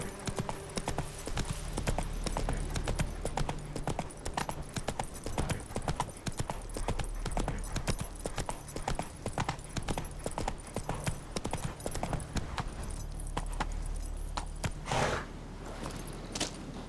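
A horse gallops in the video game The Witcher 3. Rapid, steady clip-clop hoofbeats run throughout, close and continuous.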